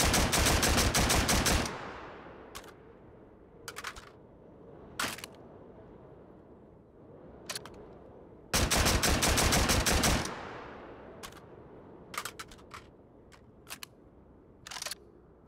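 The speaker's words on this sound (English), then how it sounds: "Let me just shoot off a couple more rounds with this." Gunfire from a weapon in the VR game Hot Dogs, Horseshoes & Hand Grenades: two long, loud rapid-fire bursts mixed with scattered single sharp shots and quiet gaps, close and dry.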